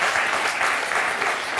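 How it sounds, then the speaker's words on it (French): An audience applauding in a French television talk show studio, dense even clapping that holds at a steady level from start to finish. "Ça s'applaudit, hein."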